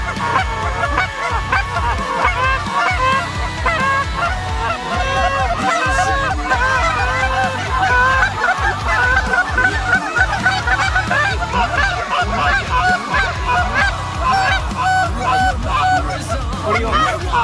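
A large flock of migrating geese honking continuously and loudly, many overlapping calls forming a dense, steady clamor throughout, with faint voices in the background.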